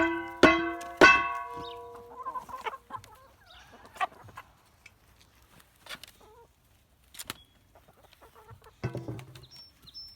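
Chickens cluck and squawk loudly at first, then settle into soft scattered pecking at dumped vegetable scraps and occasional clucks, with small clanks nearby.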